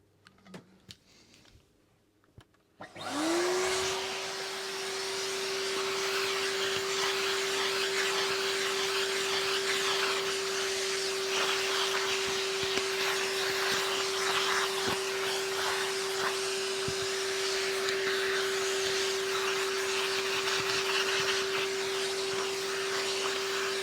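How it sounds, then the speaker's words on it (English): A vacuum cleaner switches on after a few seconds of handling noise and runs with a loud, steady whine and rushing air, held continuously close by while cleaning off a vintage Hoover Junior 1346A upright. "Now let's just vac this off."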